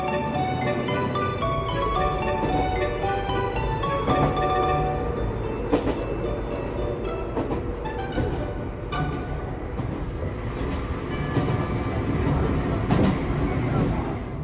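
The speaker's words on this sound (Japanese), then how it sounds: "この電車好きなんだよな俺、大好きになっちゃった。 これ一両編成だもん。" A single-car Echizen Railway electric train rumbles steadily along the rails toward Katsuyama Station with a continuous low drone and occasional clacks, heard from inside the car, loud and unbroken throughout.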